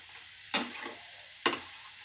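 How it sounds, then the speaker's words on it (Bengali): Curry with a little sugar frying in a pan, a constant soft sizzle broken by two distinct scraping stirs about a second apart, close by. "এবার এর মধ্যে একটুখানি চিনি ব্যালেন্সের জন্য দিয়ে ভালো করে মিশিয়ে"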